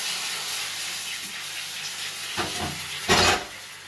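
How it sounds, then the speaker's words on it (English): Chicken stock poured into a hot pan for brandy and mushroom gravy gives a steady hiss, with two loud sizzling bursts near the end as it hits the metal. "let's add our stock into there. Sizzle, sizzle, sizzle, give the pan a shake."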